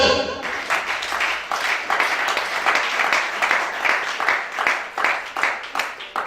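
A church congregation at a Gabonese teaching service applauds together in loud, close, rhythmic waves of clapping that carry on without a break, with faint voices mixed in.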